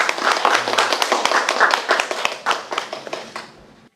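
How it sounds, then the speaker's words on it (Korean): Audience at a citizens' school lecture clapping to welcome the lecturer: a modest crowd of close, crisp hand claps in a steady patter for about three and a half seconds, tapering off at the end. "큰 박수로 맞이해주세요"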